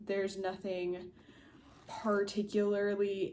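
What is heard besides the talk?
None of the usual background noises is heard.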